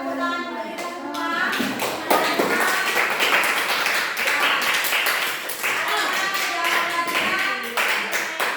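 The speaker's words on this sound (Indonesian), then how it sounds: "Tepuk tangan untuk kita semua." Pupils and teacher clap hands together in a classroom after group presentations, a burst of uneven, close claps with sharp taps, mixed with children's chatter and talking throughout.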